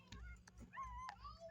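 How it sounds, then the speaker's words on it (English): A black dog crying in short, faint whimpers and high whines, broken by small yips, heard over a low background rumble indoors among other dogs. "what is this black dog doing, bro? He's just crying"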